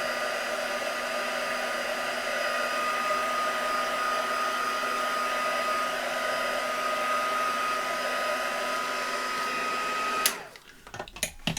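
A heat tool or dryer blows steadily and loudly up close for about ten seconds to dry VersaFine Clair ink on a card background, then cuts off, followed by a few soft handling knocks.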